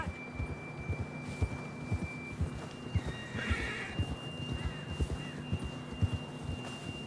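A horse in the Red Dead Redemption 2 video game gives one clear whinny midway through, set against steady clip-clop hoofbeats and a faint sustained tone, with no talking.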